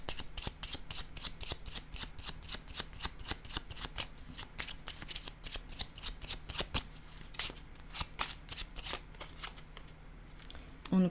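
Tarot cards being shuffled steadily for about eleven seconds, a continuous run of crisp riffling slaps and flutters close by, with no talking.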